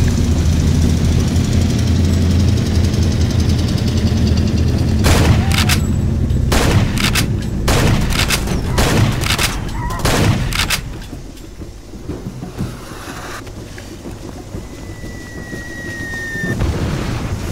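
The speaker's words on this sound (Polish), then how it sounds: "Kurde, który to tak strzela z tej broni?" Gunfire in Far Cry 2, a rapid string of loud sharp shots cracking over a dense roar of rain-like background noise, clustered in the middle and then easing off into quieter ambience.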